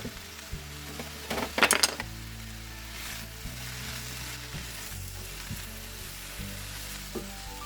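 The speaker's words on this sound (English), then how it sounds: "about 8 to 10 garlic cloves. And we're just going to let that saute for 2 to 3 minutes here" Eight to ten garlic cloves sautéing in a pan for homemade spaghetti sauce, a steady close sizzle throughout with a brief clatter of stirring utensils early on.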